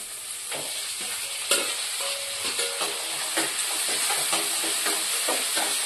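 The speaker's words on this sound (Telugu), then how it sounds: "సో లైట్గా వేగిన తర్వాత ఇంకా ఈ టొమాటోస్ని కూడా వేసేస్తున్నాం" Tomatoes tossed into a pan of lightly fried onions for an egg curry hiss and sizzle steadily up close, with occasional stirring knocks and scrapes.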